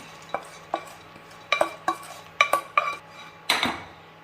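A spoon stirs rice batter with cashews, raisins and chickpeas in a bowl, clinking against the sides about nine times in an uneven rhythm, close and fairly crisp.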